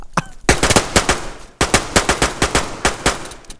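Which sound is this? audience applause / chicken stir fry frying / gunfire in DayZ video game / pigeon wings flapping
gunfire in DayZ video game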